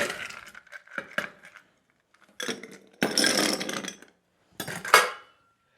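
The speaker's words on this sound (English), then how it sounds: "We're going to put some ice in there." Ice cubes clatter and clink into a tall Collins glass as a cocktail is being made. There are several separate bright bursts with quiet gaps between them, and the sound is close and moderately loud.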